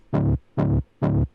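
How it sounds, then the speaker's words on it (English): Three deep, punchy synth bass notes that hit with the kick in a Melbourne bounce track, landing in an even rhythm, each short and heavy with a quick attack, alone and upfront. "So our bass that hits on the kick is this."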